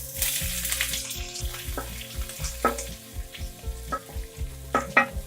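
Onions sautéing in oil in a pan for tomato chutney, a soft crackling sizzle under repeated scraping and clattering stirs, close and uneven, with steady low hum from a kitchen appliance running underneath.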